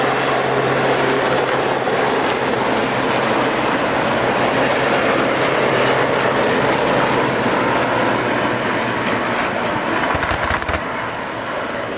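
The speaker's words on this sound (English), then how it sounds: "There's the Apache just popping up over the hangar there" An Apache helicopter flying a display at the Yeovilton Air Day air show, a loud continuous rotor roar with a steady low thrum that holds for the whole stretch, with no talking.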